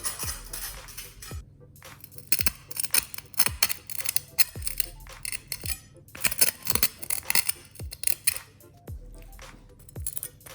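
A knife chops through a roast pork joint with crisp crackling, giving sharp crunchy cracks and snaps in an irregular rhythm, close and fairly loud, with no talk.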